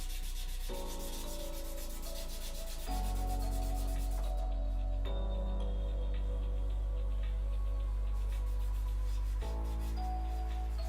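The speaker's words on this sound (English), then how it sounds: "So that's kind of what I'm meaning when you're wet sanding." Wet sanding rubs against a guitar headstock on a workbench, a soft, steady scraping close by over a constant low hum, with the hum shifting in several abrupt steps.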